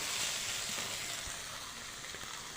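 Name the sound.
okra (bhindi) frying and being stirred in a pan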